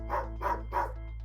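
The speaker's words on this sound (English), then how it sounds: "it's a very frantic bark." A dog barks frantically three times in quick succession, sharp evenly spaced barks over a low steady hum, fairly close and alone with no talk.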